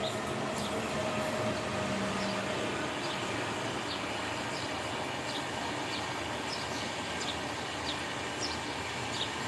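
A train arrives, rumbling steadily, a continuous broadband roar of wheels and carriages that holds at a constant level throughout, with faint high squeals scattered above.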